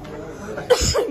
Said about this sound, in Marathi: आपला खोकला जाईना झाला